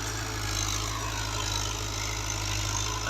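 An NH Dabang tractor pulls a seven-tine chisel plough through a field, its engine a constant, close, heavy drone without any break.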